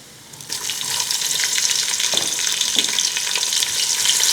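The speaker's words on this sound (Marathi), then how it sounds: "एखाद मिनिटभर मिरची तळूयात" Green chillies frying in ghee with cumin seeds for a large batch of sabudana khichdi, a steady bright sizzle that swells and stays loud after a quiet start.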